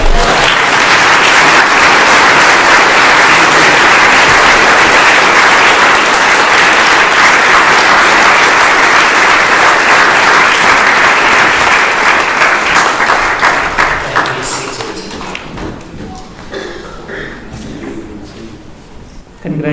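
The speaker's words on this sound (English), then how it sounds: "Now, let us applaud our" Audience applause at an award ceremony, a long dense wall of clapping that holds steady for most of its length, then thins and fades to scattered claps near the end.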